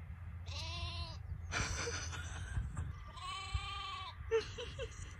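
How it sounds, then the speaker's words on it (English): Baby goats or sheep bleating in a series of wavering cries, several calls in quick succession close by, with a few soft background noises between them. "You little baby sheep. Or the goats."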